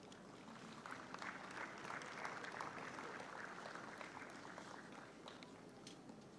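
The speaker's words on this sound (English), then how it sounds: "Next up, with a huge round of applause" Audience applause at a graduation ceremony for the class of 2023, a steady, dense wash of clapping from a crowd sustained at moderate level throughout without letup.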